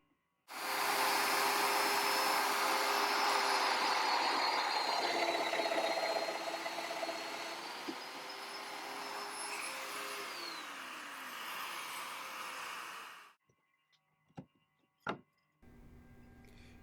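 Festool Domino joiner plunging into wood to cut a mortise, a loud steady motor whine with a cutting roar that runs for about thirteen seconds alone, then stops abruptly, followed by a few faint knocks and clicks.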